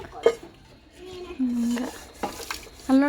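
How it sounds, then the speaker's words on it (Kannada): Plates are being washed, with scattered clinks and clatters of dishes knocking together, interspersed with nearby voices talking. "ಅವಳು ತಟ್ಟೆ ತೊಳಿತಿರೋದ"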